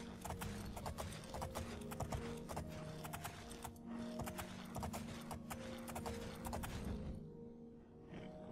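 Rhythmic clip-clop of horse hooves in The Elder Scrolls IV: Oblivion plays steadily for several seconds, fairly faint, with a light creak of tack and a fade near the end.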